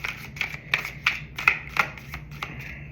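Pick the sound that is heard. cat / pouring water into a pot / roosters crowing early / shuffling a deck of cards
shuffling a deck of cards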